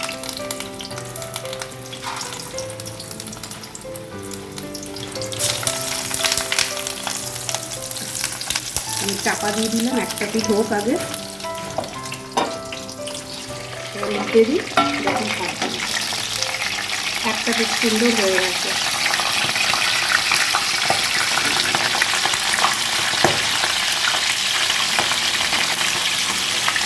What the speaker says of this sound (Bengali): এবার আমি ভাজবো। তেলটা গরম হয়ে গেছে, এবার খুব ছিটবে